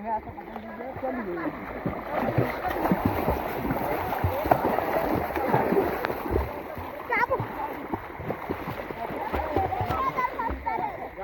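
People bathing in a village pond, with splashing and churning water throughout, steady and close, mixed with voices of people talking and calling out over the water.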